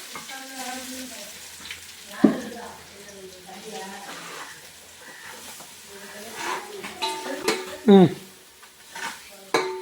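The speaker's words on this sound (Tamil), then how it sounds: "இதை நம்ம நல்லா வதக்கிக்கலாம்." Ground masala and curry leaves sauté in a pan with a soft, steady sizzle, broken by scraping stirs and a few sharp clinks of a spoon against the pan, while someone talks over it.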